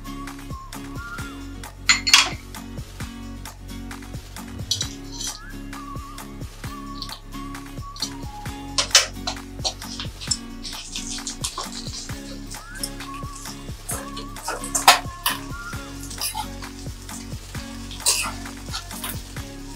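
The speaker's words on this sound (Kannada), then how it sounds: "ಮೊದಲಿಗೆ ನಾವು ಈ ಅಗಸೆ ಹೂವನ್ನ ಸ್ವಲ್ಪ ತುಪ್ಪ ಹಾಕೊಂಡು ಹುರ್ಕೊಳ್ಳೋಣ." Sesbania (agase) flowers fry in ghee in a pan, a soft, low sizzle broken by frequent metal clinks and scrapes of a spoon stirring against the pan.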